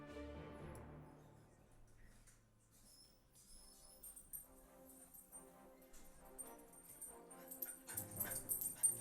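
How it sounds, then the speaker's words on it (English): A puppy gives faint, intermittent whimpers and small yips in a quiet indoor room, growing a little busier toward the end. "The puppy is not going to bother you,"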